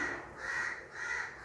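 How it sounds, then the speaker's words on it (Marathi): Crows caw outside a kitchen window in two drawn-out, raspy calls, moderately distant and heard alone. "बाहेर आमच्या खिडकीमध्ये आवाज येतो पक्ष्यांचा"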